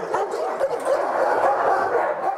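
Many dogs bark together at a Tyneside dog rescue charity's kennels, a dense, continuous chorus of overlapping barks and yips held at a steady, fairly loud level throughout.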